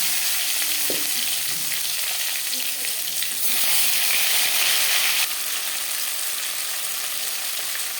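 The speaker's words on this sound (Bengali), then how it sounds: "পাঁচ ফোড়ন তেজপাতা ভেজে নেওয়ার পর দিয়ে দেবো টুকরো করে কেটে রাখা টমেটো" Chopped tomatoes dropped into hot oil with panch phoron and bay leaf, giving a steady close frying sizzle that swells louder for a couple of seconds after a brief stir, with no talk.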